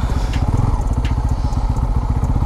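A Bajaj Pulsar F250 motorcycle under way gives off a steady, rapid engine throb, close and loud, with no pauses.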